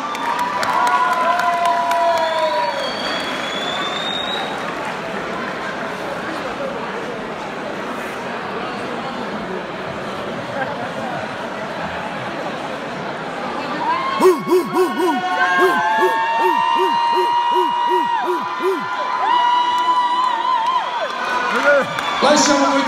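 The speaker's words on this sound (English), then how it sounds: "Round of applause for both boxers" A crowd at a white collar boxing match cheers, whoops and claps for both boxers, a steady mass of noise that swells in the second half, with voices shouting amid the din.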